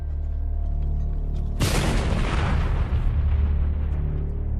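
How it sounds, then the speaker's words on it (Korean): A large bamboo tube packed with gunpowder blows up as a landmine, a sudden loud boom at close range that bursts across the whole spectrum and then rolls on in a long, rumbling, crackling decay. "this would explode a large piece of bamboo stuffed full of gunpowder right underneath the enemy soldiers' feet."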